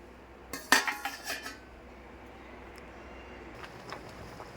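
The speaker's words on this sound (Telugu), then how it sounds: "అప్పటి వరకు మూత పెట్టేసి మగ్గించుకుందాము." A metal lid clatters onto a pot of lemons simmering for an instant lemon pickle: a short burst of clinks and knocks, then a quiet hiss of the pot.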